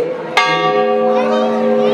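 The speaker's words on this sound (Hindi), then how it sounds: "कथा के समय घंटी न बजाने का एक नियम बनाना चाहिए" A metal bell is struck once during a Hindu religious discourse, a sharp clang that rings on with a long sustained tone while a voice speaks over it.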